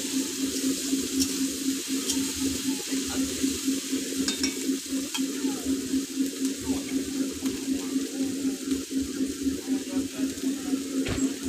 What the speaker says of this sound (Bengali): আদা রসুনটাকেও ভালোভাবে ভেজে নিতে হবে।